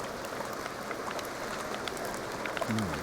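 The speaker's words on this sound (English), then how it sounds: "It's raining." Rain falling in The Sims 2 life-simulation game, a soft, continuous patter of drops spread evenly across a few seconds, moderately quiet with a brief low tone near the end.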